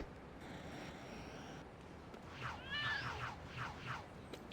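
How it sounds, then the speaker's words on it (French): A cat in the Lego City Undercover video game lets out a few faint, short meows in quick succession over quiet game background noise, with no talking. "Il y a un chat ici."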